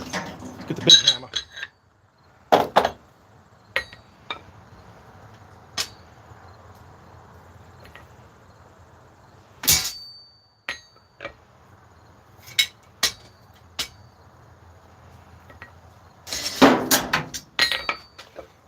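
Heavy hammer blows on metal in a blacksmithing workshop, a handful of sharp, ringing strikes spaced irregularly, with a quick cluster of loud clanks near the end and quieter tool clinks between.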